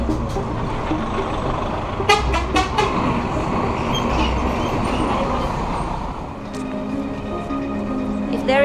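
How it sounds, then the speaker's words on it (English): Heavy city traffic in Ulaanbaatar with buses and trolley buses: a dense rumble of engines, several short car horn toots around the middle, and a voice talking over the din. "One of the problems of this rapid growth is the heavy traffic."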